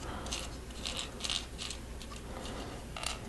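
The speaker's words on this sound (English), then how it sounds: "the string on this little spool. You can see it rolls up pretty neatly on there" A string reeling onto a small Lego spool in a City Square set build gives off a quiet clicking, ratcheting rattle in short uneven bursts, faint and close with no voices.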